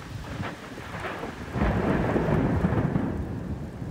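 Rolling thunder rumbles through a thunderstorm over steady rain, swelling louder about halfway through and staying heavy to the end.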